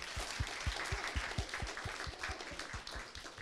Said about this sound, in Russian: А бурные аплодисменты вы получаете моментально.